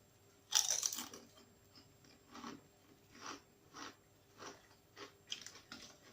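Someone close by biting into Mackie's Tangy Tomato potato crisps, with one sharp loud crunch and then a run of softer, evenly spaced chewing crunches in a quiet room.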